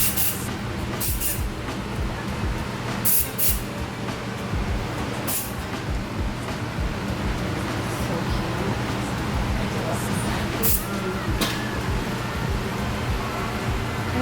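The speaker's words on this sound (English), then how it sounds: "I'm just gonna take this volumizer spray and I'm just gonna barely just spray it on her braids" Short bursts of hair volumizer spray lightly misted onto braids, several brief hissing puffs in an uneven rhythm over a steady low background hum.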